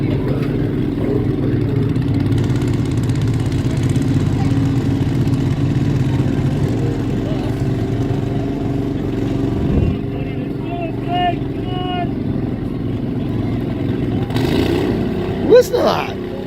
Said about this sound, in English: It's an old wheel horse, and the engine's so big they had to cut a gigantic hole in the hood for it.